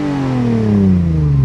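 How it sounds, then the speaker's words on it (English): Porsche 911 GT3 sports car engine revving at a car meet, a loud close harmonic drone whose pitch slides steadily downward as the revs fall, heard alone without talk. "You want me to get a video of you revving it?"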